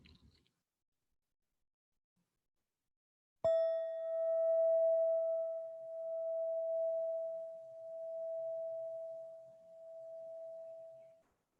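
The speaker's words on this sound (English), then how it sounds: "I'll ring the bell, and we'll just listen." A single meditation bell struck once after a brief silence, ringing with a clear, pure sustained tone that slowly swells and fades in gentle waves over several seconds, alone in a quiet room.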